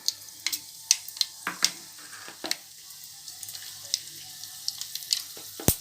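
Mustard seeds and urad dal pop and splutter in hot oil in a pan, a close run of sharp, irregular crackles over a soft sizzle, with no talking.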